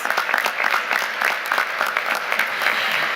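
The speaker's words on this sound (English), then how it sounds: "So we want to applaud our scholars." An audience applauds scholars at an educational achievement award ceremony, a dense, steady wash of many hands clapping close by for the whole stretch.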